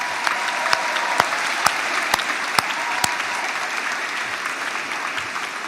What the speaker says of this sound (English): let us give him another round of applause